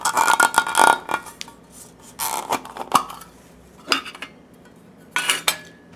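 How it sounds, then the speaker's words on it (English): A metal tin's lid is worked loose and pulled off in several short bursts of close metallic scraping and clinking, separated by brief quiet gaps. "Then remove the lid."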